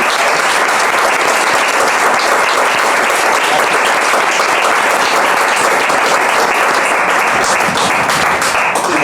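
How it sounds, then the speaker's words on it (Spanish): A crowd applauds steadily and loudly the whole way through, a dense wash of clapping with no pauses. "un aplauso nuevamente"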